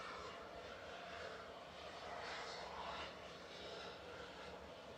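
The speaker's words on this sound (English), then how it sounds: "Ryanair's heading off. This one going to Malta with flight 5209." A Ryanair jet departing Manchester Airport bound for Malta, its engines a steady, broad roar at moderate distance that swells slightly midway and holds without a break.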